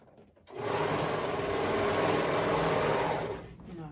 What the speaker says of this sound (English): I'm gonna use my serger to sew all the way around my gathers and my bodice